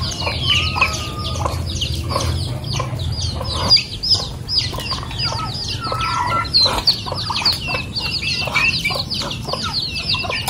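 Several Tagalog native chickens cluck and squawk continuously nearby, overlapping calls with occasional wing flaps and a low hum underneath.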